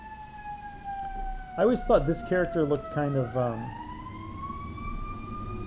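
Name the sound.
ambulance siren passing outside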